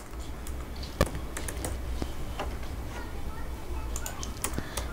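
Computer keyboard typing, scattered quick keystrokes and clicks, close and fairly quiet over a low hum, with a couple of sharper key taps.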